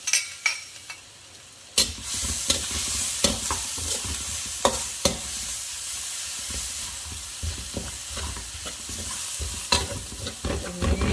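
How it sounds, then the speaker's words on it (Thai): Minced garlic dropped into hot oil sizzles loudly and close, the frying hiss rising sharply and holding steady while a utensil stirs and scrapes the pan in repeated clicks, no voices over it. "น้ำมันเราร้อนแล้วไม่ใส่ตัวนี้ลงไปเลย กระเทียมสับนะคะ"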